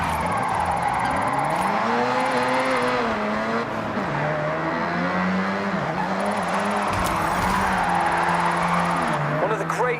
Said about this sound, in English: If you don't drift with style, it's just skidding.